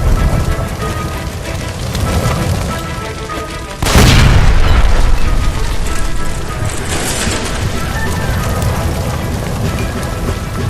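A gas line blows up with a sudden loud boom in L.A. Noire, cutting through a steady rain-like roar and leaving a dense, rumbling wash of noise behind it.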